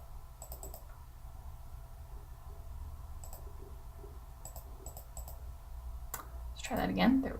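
Computer mouse clicks, small sharp taps in scattered groups over a quiet room hum, with a faint voice in the background and a louder rustle near the end.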